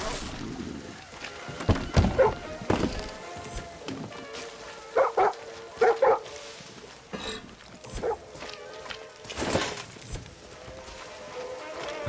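A dog barks in the Far Cry 6 video game, with scattered barks and yips among thuds and other in-game sounds, at moderate loudness.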